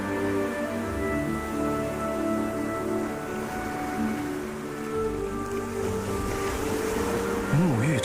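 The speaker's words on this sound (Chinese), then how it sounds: "人们只有在潮水最高的时候，才能乘坐小船进入" Small boat motoring across calm sea toward a reef-ringed blue hole, a steady engine drone with shifting tonal hum under wind and water wash, moderately close and continuous.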